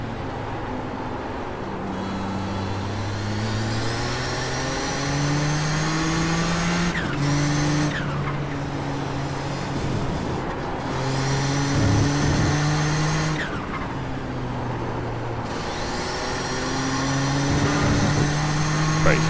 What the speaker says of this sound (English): I could be heard over the sound of the screaming engines and hissing turbos